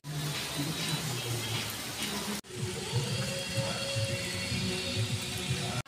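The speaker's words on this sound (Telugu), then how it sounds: "చూడవచ్చు వెనకాల ఫుల్ వర్షం అంటే ఫుల్ వర్షం" Heavy rain pours steadily at a zoo park in Trivandrum, Kerala, a dense, loud, unbroken wash of falling water that fills the whole clip, with a brief dip partway through.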